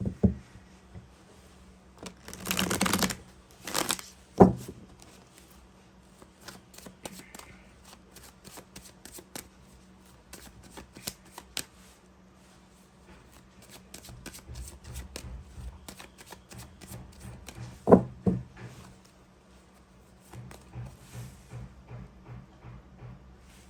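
Tarot cards being shuffled by hand up close, with bursts of riffling and flicking, soft taps and card slaps spread across a quiet room, without talking.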